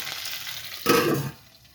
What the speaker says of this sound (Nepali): मैले छिट्टै भुट्दै गरेको छु सानो ग्यासमा